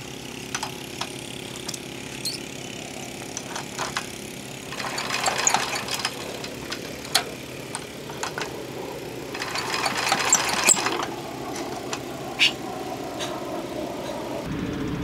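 A Tobata engine, hand-started, with an idling mechanical chug underneath and two surges of revving roughly midway and near the end, plus scattered sharp knocks and clanks, fairly close with no talking.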